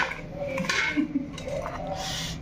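A pressure cooker being rinsed and washed with water, with clattering metal pot and lid knocks and scraping close by, short clinks over a steady wet background.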